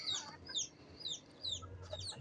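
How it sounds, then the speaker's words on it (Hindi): A backyard hen clucks in a quick series of short, high, close calls, four or five in a row over faint low background noise, with no talk. "अच्छा आज ही मेरी ये मुर्गी आवाज़ें निकाल रही है"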